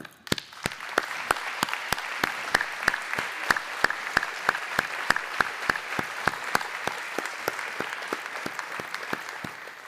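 Audience applause for elected officials at a State of the City 2024 event, a steady round of rhythmic clapping lasting throughout, fairly close and even in loudness.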